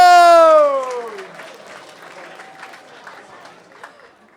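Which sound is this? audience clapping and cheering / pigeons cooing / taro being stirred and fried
audience clapping and cheering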